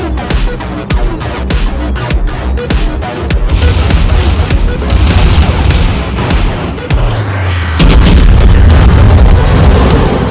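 Heavy naval gunfire from World of Warships, with a Kuma cruiser shelling a Dreadnought battleship: repeated loud booming salvos and explosive bursts, layered over a sustained low rumble that swells near the end.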